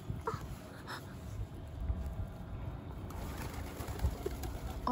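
Pigeons or doves cooing and calling while being fed outdoors, several birds close by with soft repeated coos over a steady background bustle.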